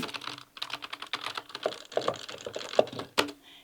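Rapid plastic button clicks on an old-school 1980s video game console loaded with vintage games, a quick uneven run of taps and presses, close and fairly quiet, with no talking.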